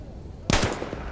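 Gunfire from the video game Battlefield 1 cracks out in a sudden loud burst after a quiet stretch, followed by a few fainter shots and some low background noise.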